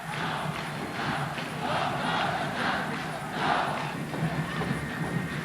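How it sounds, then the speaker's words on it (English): Green Archer fans cheer wildly inside the Big Dome at a UAAP basketball game between De La Salle and Ateneo, a dense, continuous roar of a large arena crowd with rhythmic swells and stomping thuds. "Back to the Big Dome with the Green Archer fans cheering wildly"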